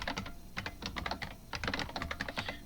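Rapid typing on a computer keyboard while entering musical notes into a statistics homework program: bursts of crisp clicks in quick, uneven runs, close and clear, with a short pause midway and no talking.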